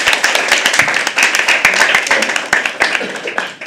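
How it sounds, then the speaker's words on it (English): Audience at a poetry open mic at The Habitat applauds, a dense burst of many hands clapping close by, steady for a few seconds before thinning out. "Can we please have a round of applause?"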